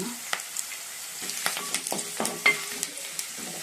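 Oil tempering with turmeric added crackles and sizzles in the pan while a spoon stirs, giving repeated clicks and scrapes over a steady frying hiss, with no speech.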